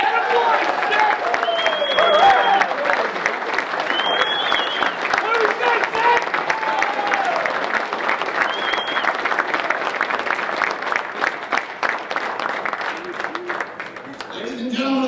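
Audience at a lacrosse Hall of Fame induction ceremony clapping for inductees, sustained dense applause from a large room with a few whistles and cheers rising above it, steady and loud throughout.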